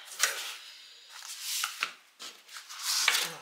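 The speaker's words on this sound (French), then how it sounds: "je coupe les 4 angles" Scissors cutting the four corners of a paper craft album frame, a handful of short crisp snips and rustling paper strokes, close and fairly quiet, with no talking.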